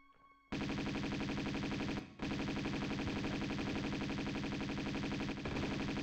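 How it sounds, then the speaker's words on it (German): Uzi fire in Tomb Raider II: loud, continuous rapid-fire bursts of game gunfire, starting abruptly after a quiet moment, with a brief break near the middle and no talk over it. "Ich meine, das sind Uzi."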